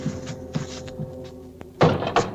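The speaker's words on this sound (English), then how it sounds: "Now, open that door." A few soft knocks and scrapes, then a heavier wooden thunk and creak as a door is pushed open nearby.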